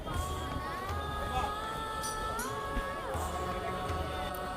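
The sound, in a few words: crowd of temple pilgrims at Tiruvannamalai Rajagopuram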